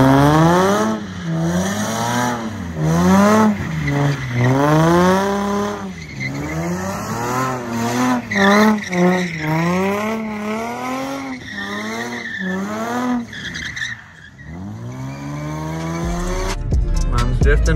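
Lexus GS430 and Infiniti G35 drifting at a drift event, engine revving in repeated rising and falling sweeps with loud tire squeal, close and continuous.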